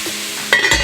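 Ground meat browning in a lidded pot over medium-low heat for copycat Steak 'n Shake chili, a soft steady sizzle with a couple of louder stirring scrapes near the end, close and without talk.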